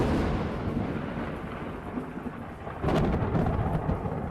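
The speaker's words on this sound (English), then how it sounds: "That sound usually means rain" Thunder rumbles over steady heavy rain in a radio ad sound effect, a continuous wash of rainfall with a louder crack of thunder swelling near the end, no voices.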